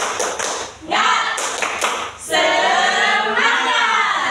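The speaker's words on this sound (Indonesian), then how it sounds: "Tepuk semangat." A group claps together in a quick rhythmic pattern, with bursts of crowd voices and cheering between the sets of claps.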